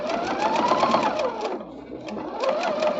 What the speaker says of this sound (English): As you're sewing down this line, I don't want to use my finger and get too close to the needle.